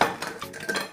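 Broccoli florets tipped into a baking dish for a vegetable gratin: a brief, close clatter of utensil against dish, with no voices.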